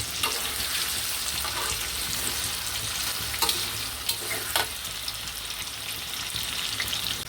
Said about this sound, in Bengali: লাল না হওয়া পর্যন্ত আমাদের ফ্রাই করতে হবে